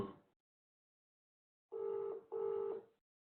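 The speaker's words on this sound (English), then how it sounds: "Is that your phone ringing?" Phone call ringing tone: two matched electronic ring bursts close together after a brief earlier fragment, clean and moderately quiet with silence between them.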